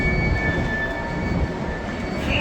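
Merseyrail Class 777 electric train standing at a platform during boarding, giving off a steady, loud mechanical hum and rumble with faint high whining tones throughout, with no speech.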